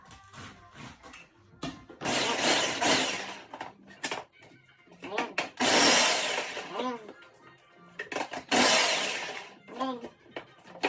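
Cabbage for kimchi and kraut is sliced with a continuous whirring machine that runs in three long loud bursts, separated by quieter stretches where a person talks.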